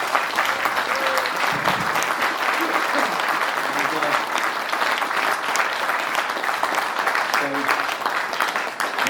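A concert crowd applauds in honour of a drummer, a loud, dense and continuous ovation with voices and cheers mixed through it.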